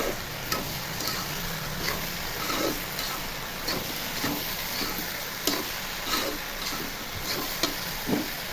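Dried loitta and kachki fish cooking with potatoes in a pan, giving a steady close sizzle with regular scraping stirs and light spatula clicks throughout, no talking.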